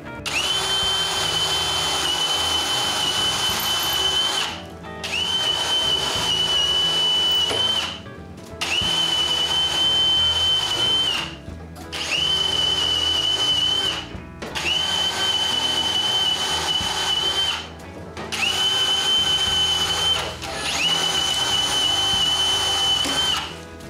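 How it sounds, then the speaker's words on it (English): A power drill whines loudly in repeated bursts, about six of them, each several seconds long with short pauses between, close by, drilling holes in a kitchen cupboard. "Drilling 10 holes at the same exact place is a breeze"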